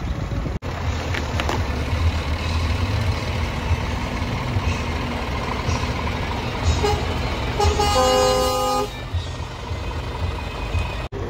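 A truck horn sounds loudly near the end at a timber-truck meet in Engure, Latvia, holding a steady tone for about a second over continuous engine rumble and outdoor crowd noise.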